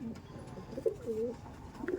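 Pigeons in a loft cooing, several soft rolling coos rising and falling over a low murmur of background noise, close by and moderately loud.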